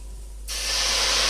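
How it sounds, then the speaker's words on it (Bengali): Grapes with turmeric and salt sizzle in a wok, starting quiet and then breaking into a sudden loud, bright hiss that holds steady as they are stirred. "এগুলোকে ভালো করে নাড়াচাড়া করে নেব কড়াইয়ে।"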